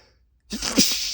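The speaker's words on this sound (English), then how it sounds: "You're gonna make me sneeze." A single sharp human sneeze, a quick inhaled catch followed by a loud close burst of air, alone after a moment of silence.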